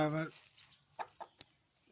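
Brief harmonic clucking call from young roosters at the start, followed by a few soft, short clucks and a sharp peck-like click, fairly quiet.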